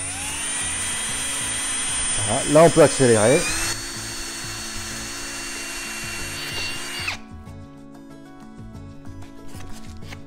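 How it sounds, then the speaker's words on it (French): A power drill bores a second hole through wood for a designer shelf, starting at reduced speed, whining steadily near the mic for several seconds before stopping, with someone speaking briefly over it. "on perce le trou"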